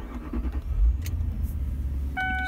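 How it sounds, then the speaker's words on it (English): Car engine starting while a battery voltage tester is connected: a brief low rumble and crank nearby, followed by a faint electronic beep tone near the end. "I'm going to turn it on. Notice the drop in the voltage when you start the car"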